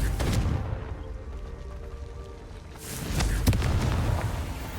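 A Confringo fire spell in Hogwarts Legacy goes off as a deep, booming blast with a rumbling tail. A second sharp explosive burst follows near the end of the clip, with no talking.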